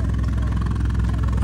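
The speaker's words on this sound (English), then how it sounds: "the little Daihatsu Passo, I think it's called, that we were seeing out on track has just pulled in" Small Daihatsu Passo hatchback fitted with a bike-type silencer, at a grip event at Ebisu Circuit, idling close by with a steady low, slightly rough engine drone.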